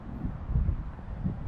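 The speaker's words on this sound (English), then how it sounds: "It's really windy. Excuse the wind." Wind buffets the microphone outdoors at an RV hangout area in low, rumbling gusts that rise and fall, with no talking over it.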